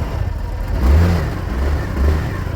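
A Mondial Strada 125 or RKS Grace 202 motorcycle engine runs close by with a few short rev swells over a steady mid-pitched hum, no voices.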